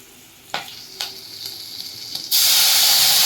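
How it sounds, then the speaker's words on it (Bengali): Whole black cumin and two slit green chilies drop into hot oil for a light fish curry, first giving a few sharp crackling pops and then a sudden loud, steady sizzle close by. "এবার তেলের মধ্যে দিয়ে দিলাম গোটা কালো জিরে ফুটিয়ে নেব দিয়ে দিলাম দুটো চেরা কাঁচা লঙ্কা"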